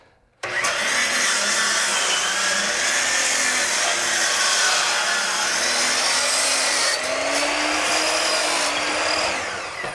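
A saw on a Felder CF741S machine trims about half an inch off the end of a wooden board for an interior door, a loud steady cutting drone that starts abruptly and runs unbroken with slight pitch shifts.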